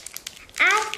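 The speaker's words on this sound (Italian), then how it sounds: "Adesso apriamoli." Crinkly plastic packaging of a Skifidol food slime toy being torn and pulled open, a loud crackling burst in the second half after softer scattered rustles.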